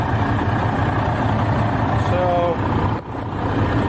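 A vehicle engine idles steadily and close by in a snowy parking lot, its low continuous rumble running under a man's speech throughout.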